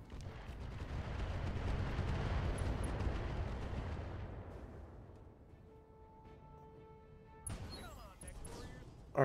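Mech weapons firing in the RogueTech battle game during an urban fight: a dense barrage of booming, crashing impacts rolling for several seconds, then fading into quieter mechanical tones and a final burst.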